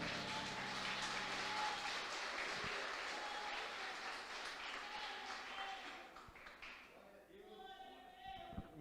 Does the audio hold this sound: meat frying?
no